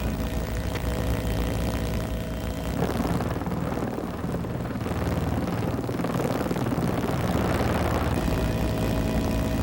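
A helicopter airlifts the base of the Our Lady of the Rockies statue up to a foggy mountaintop, its rotor and engine a steady, continuous drone throughout with no talking.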